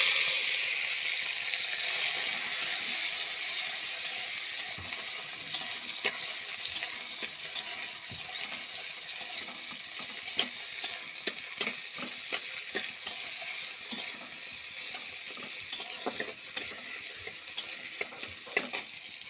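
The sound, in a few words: tempering dal with tomato and carrot, sizzling in pan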